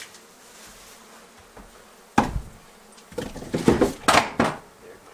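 Honey bees buzzing during removal of a beehive from a wall, a faint hum at first, then louder busy buzzing mixed with scraping and clattering handling noises in the second half.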